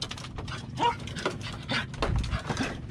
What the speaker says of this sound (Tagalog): Yan ang ating aso